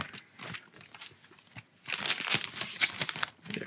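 Protective plastic film peels off a new space gray iPad Air 2, giving close crinkling and tearing rustles in short bursts, louder in the second half, with no voices.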